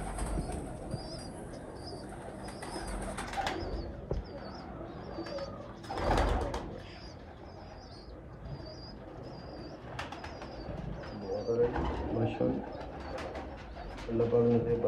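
White pigeons coo in a low steady murmur, with wing flaps and scattered chirps around them, while people talk nearby at a moderate distance.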